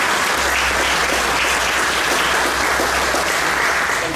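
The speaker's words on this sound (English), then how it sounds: "So I think we should all give the guys a round of applause for that." A crowd at a rural fire station opening applauds the fire brigade, with loud, continuous clapping from many hands filling the space and a low hum underneath.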